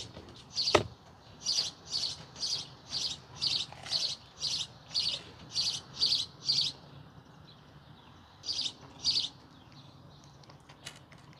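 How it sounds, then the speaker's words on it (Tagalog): Birds chirp outdoors in a quiet early-morning setting, sending out a steady series of about a dozen short, bright, evenly spaced tweets followed by a pause and two more calls, clear against faint background hush. "ang ganda ng tunog ng ibon, no?"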